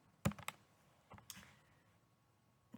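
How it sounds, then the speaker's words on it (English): Clicky keystrokes as a search query is typed on a computer keyboard, a few distinct taps then a short burst, close and fairly quiet with no talk. "So I'm going to type it in."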